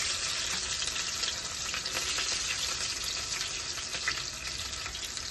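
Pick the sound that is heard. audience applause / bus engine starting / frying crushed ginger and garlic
frying crushed ginger and garlic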